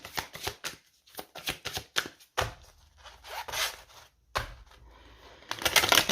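Tarot cards from a Rider-Waite and psychic tarot deck are shuffled with quick papery riffles in rapid bursts, then there are pauses and softer slides as cards are laid out, close and fairly quiet.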